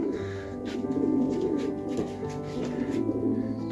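Racing pigeons coo in a loft after a race, their soft throaty warbling continuous and close, with a few faint rustles and clicks behind it.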